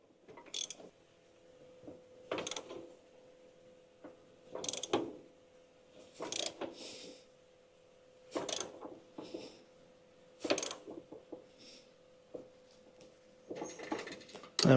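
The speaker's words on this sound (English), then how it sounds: "we're going to put the nut in, tighten that down" A ratchet wrench clicks in short bursts to tighten a nut on the pulley of an air-cooled VW engine, about eight spaced bursts of rapid close clicking with quiet gaps between.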